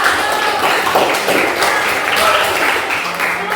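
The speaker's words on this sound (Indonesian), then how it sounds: "Tepuk tangan untuk kita." Students in a class clap together after a group task, a sustained, moderately loud patter of many hands with faint voices mingled underneath.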